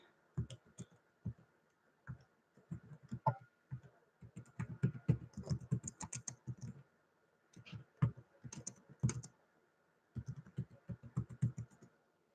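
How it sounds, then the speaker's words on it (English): Irregular bursts of clicky keystrokes on a computer keyboard, close and fairly quiet, with short pauses between runs of typing. "I'm typing that in here now, and then I'll get going."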